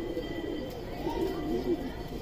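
A pigeon coos softly from a rooftop perch at dusk, giving a few low warbling calls over quiet background hum.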